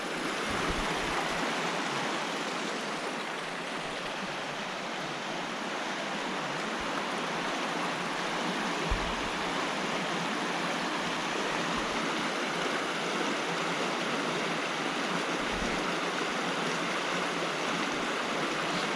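A river stream near Loch Sloy, Scotland, rushes steadily and continuously, a dense, even wash of flowing water close by with no voices.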